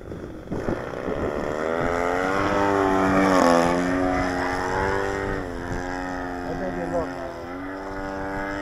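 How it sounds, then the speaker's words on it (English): A small model airplane engine on an Extreme Flight aircraft runs steadily close by, its buzzing pitch rising and falling as the throttle changes, with no pause throughout. "That is a great running engine."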